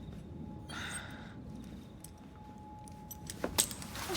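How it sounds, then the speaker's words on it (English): A ring of keys jangles and clinks as it is handed over in the game Assassin's Creed Syndicate, a brief metallic rattle near the start and a few sharper clinks toward the end over a low ambient hum. "Now hand over your keys."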